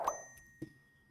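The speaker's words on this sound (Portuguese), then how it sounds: "Ative o sininho de notificações" A soft notification bell chime rings once, a bright ding with a lingering tonal ring, followed by a faint second tap, quiet and isolated.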